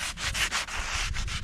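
Sandpaper rubbing back and forth along the cracked edges of a 1955 Triumph TR2 steering wheel being refurbished, giving a quick series of close, raspy strokes with short gaps between them and no voices.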